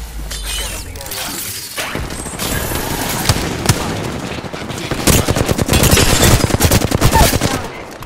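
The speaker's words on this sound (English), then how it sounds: "Getting shot at." Rapid automatic gunfire bursts from the battle royale video game Apex Legends on PC, sharp and loud, with repeated volleys and impacts building toward the end amid in-game combat chatter.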